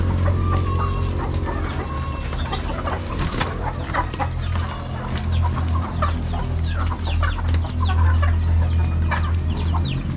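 Hens cluck repeatedly in short bursts close by, with more clucks scattered around, over a steady low hum.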